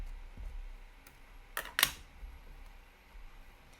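Two quick, sharp taps land close together on pearlescent paper during an ink-stamping craft session. They stand out against a quiet room background, with no voices.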